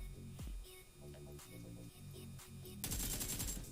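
Gunfire in a mobile shooter game played on a Poco X3 Pro phone: a handful of sharp separate shots spaced across the first seconds, then a louder burst of noisy fire and static at the end.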